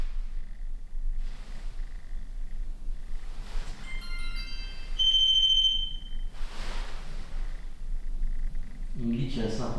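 A paranormal investigation detector pod in a manor sounds a thin, steady electronic beep tone, faint and somewhat distant over low room noise, while people talk quietly nearby.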